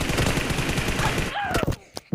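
Rapid automatic gunfire in the battle-royale game PUBG Mobile, a dense burst of loud shots that stops abruptly, followed by a few scattered pops.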